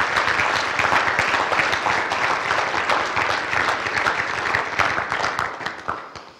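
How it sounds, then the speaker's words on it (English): A large audience applauds culinary arts students at a college signing day, a dense, loud and steady burst of clapping that holds throughout before thinning slightly at the end. "please join me in applauding our next generation of culinary arts professionals"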